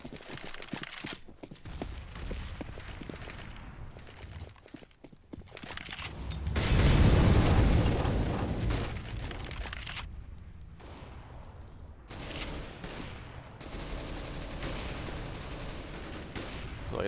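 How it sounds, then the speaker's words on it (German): Rapid SIG rifle gunfire in bursts in a pro esports match on the de_inferno map, sharp cracks and booms with a loud swell midway, echoing over a noisy battle backdrop. "Jetzt hören wir die Sig erneut."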